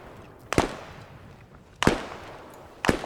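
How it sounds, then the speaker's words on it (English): Artillery explosions in a military video game, three sharp distant blasts spaced about a second apart, each a crisp crack with a short rumbling tail over quiet background noise. "Oh yeah, the artillery got this thing."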